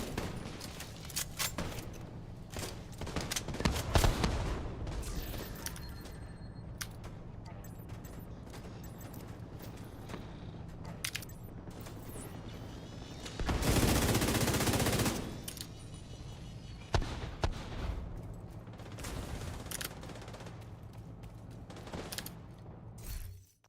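Gunfire in the video game The Division 2, rapid bursts of automatic shots and scattered single shots spread across the clip with one long sustained burst, loud and close.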